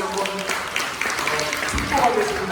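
A Korean church congregation at a Thanksgiving Sunday worship service claps together for the children, a steady, scattered patter that fills the room, with a voice speaking Korean and faint music carrying over the applause.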